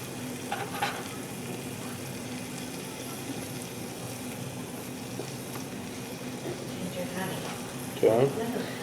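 Real salted butter goes over Angus New York strip steaks searing in a hot pan, giving a steady, close sizzle that hisses beneath someone talking.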